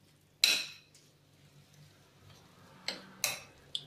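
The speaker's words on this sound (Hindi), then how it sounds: "अब आप इसे इस तरह से मिक्स कर दें, ये आपका इसका पेस्ट तैयार हो जाएगा।" Semolina uttapam batter with sour curd mixed in a bowl, heard as a few sharp clinks and scrapes of a spoon against the bowl separated by quiet pauses.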